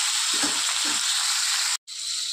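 Pumpkin and potato pieces frying in a pan make a loud, steady hiss, with two short low bumps of stirring early on and a brief total dropout near the end.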